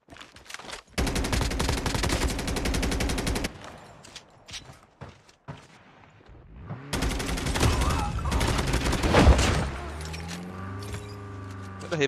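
Rapid automatic hip-fire bursts from a Call of Duty Mobile battle royale match, two sustained loud volleys separated by a quieter gap, ending in lower humming game sounds with some speech nearby.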